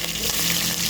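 Onion frying in hot oil for chicken curry, a steady, close sizzle that fills the whole moment without a pause.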